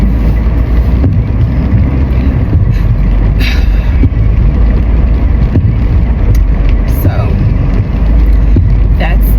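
Road noise fills a moving car's cabin as a steady, loud low rumble with wind and tire roar that never lets up, with faint speech partly buried beneath it.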